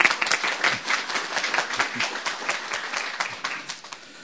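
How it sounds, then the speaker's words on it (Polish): An audience at a 2013 scholarship ceremony held by a Polish-Slavic credit union applauds, with dense, lively clapping that starts strong and gradually thins out, and no one speaking. "Także Państwu należą się duże brawa i podziękowania."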